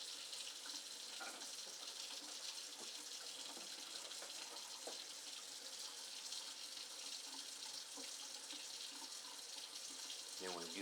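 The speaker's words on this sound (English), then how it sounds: "right out of the faucet." Kitchen or bathroom faucet running at full flow, a steady hissing stream of water that carries on unchanged for the whole stretch, with faint background sounds and a brief voice near the end.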